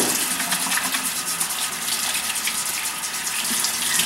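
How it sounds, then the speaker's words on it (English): Tap water runs steadily from a faucet as hands are washed before baking Guyanese bake, a continuous close gush with no talking. "so let's wash our hands"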